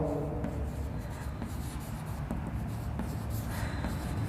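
Writing out numbers in ascending order by hand during a maths lesson on statistics, a steady pen or chalk scratching on a surface with brief pauses between strokes, close and continuous, with no talking.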